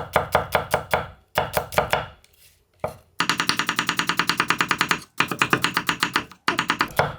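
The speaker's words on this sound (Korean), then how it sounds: "아주 곱게 편썰게 했어요. 이때 되도록이면 얇게 써세요." A knife slices new-season onions very thinly on a cutting board, giving quick, crisp, evenly spaced chops in bursts, with short pauses, then a long fast run, close and loud.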